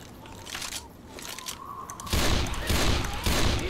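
Gunfire in the zombie shooter Left 4 Dead 2, a crackling volley of shots that gets louder and denser partway through, heard without speech.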